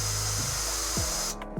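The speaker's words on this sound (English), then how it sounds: "So I'm going to have to drill that out." A power drill bores out plastic welds holding a unit inside a Porsche GT2 RS car part, a steady high whine running loud and close before stopping abruptly, with brief lower mechanical clunks as the bit shifts.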